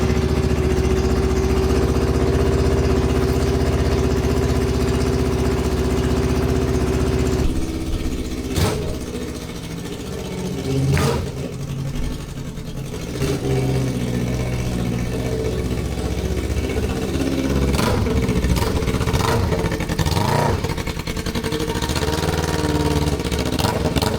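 A Kawasaki Ninja 400 motorcycle idles steadily in a garage with a slight exhaust leak at the welds, a constant nearby engine hum broken by several sharp clanks and knocks partway through.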